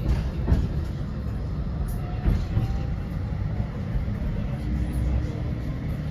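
A Blackpool tram bound for Fleetwood Ferry rumbles along from inside the car, a steady low roll with faint wheel squeal and a few knocks over the track.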